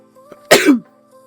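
A single sharp sneeze bursts out, short and fairly loud, against a quiet background with a faint hum.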